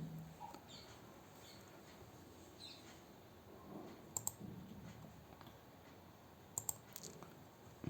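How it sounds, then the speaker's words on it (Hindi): Keys on a computer keyboard click in a quiet room, a few sparse taps and a sharp double click near the middle and end, with faint background noise. "प्रिंट स्क्रीन ऑप्शन को क्लिक करना है।"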